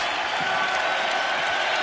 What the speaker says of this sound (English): A 3-minute ovation following a free throw.